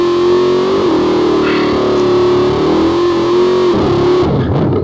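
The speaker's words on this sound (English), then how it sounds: "You know that whistling sound, and those are the turbos." A twin turbo Chevy race car gives off a loud, sustained turbocharger whistle, a steady tone that wavers slightly over a heavy distorted engine drone and then cuts off near the end.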